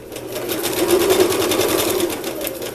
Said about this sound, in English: When you're gathering, you want a straight stitch on the longest length, and then you sew within the seam allowance.